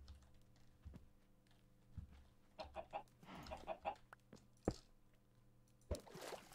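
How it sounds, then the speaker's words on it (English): A chicken in a video game clucks in short bursts, mid-level and fairly close, mixed with scattered clicks and soft background noise, no talk. "I'm really liking this chicken."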